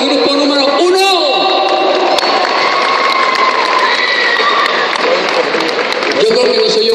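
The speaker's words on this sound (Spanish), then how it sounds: "¡Aplauso para el grupo número uno!" Crowd applause for group number one at an expo, a dense, loud wash of clapping and cheering that goes on for the whole stretch, with whoops and voices mixed in.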